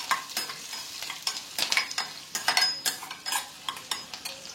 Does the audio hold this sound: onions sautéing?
yes